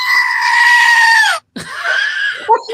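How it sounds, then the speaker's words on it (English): A loud, long goat scream, a harsh sustained bleating cry lasting over a second, breaking off briefly before a second, shorter scream trails away. "It's my screaming goat."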